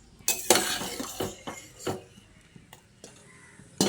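Boiled soybeans are strained and moved into a bowl in a kitchen, giving sparse clinks and knocks of utensils against pots and dishes, fairly faint and irregular, with no talk.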